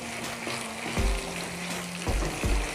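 Tomatoes fry in hot oil with masala for misal: a steady close sizzle, with a few low spoon knocks against the pan at irregular moments.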